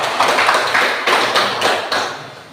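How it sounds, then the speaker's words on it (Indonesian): A student group in a classroom is applauded with rhythmic clapping, a steady series of sharp, loud claps that fill a short stretch without any talk over them. "berikan aplaus untuk kelompok 2"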